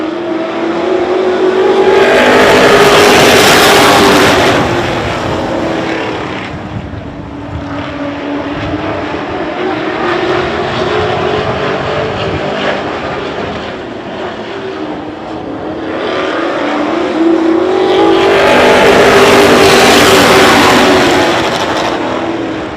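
Race cars battling for second place on track, engines swelling loud as they pass close, fading to a distant droning whine, then roaring by again in a second close pass.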